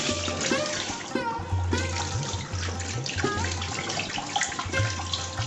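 Tap water runs steadily into a kitchen sink as fresh fish are rinsed by hand, a continuous splashing stream with faint clatter, close and fairly loud.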